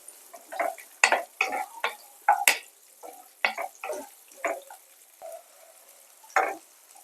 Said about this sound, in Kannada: ಈಗ ಇದು ಸ್ವಲ್ಪ ಫ್ರೈ ಆಗಿದೆ.